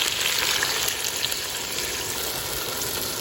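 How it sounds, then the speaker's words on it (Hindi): Water hits a pan of sizzling chicken curry (salan), giving a loud, dense, steady hiss of frying and bubbling that fills the short moment close up. "इसके अंदर मैं पानी ऐड कर रही हूँ"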